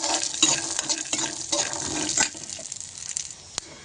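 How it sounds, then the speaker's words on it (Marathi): Peanuts fry with green chillies in a pan for a potato and peanut fasting snack, a steady close sizzle with stirring scrapes that thins out near the end. "शेंगदाणे पण आपल्याला असे फ्राय करायचे एकदम कडक झाले पाहिजे असे एकदम फ्राय करून घेऊया मिरचीसोबत"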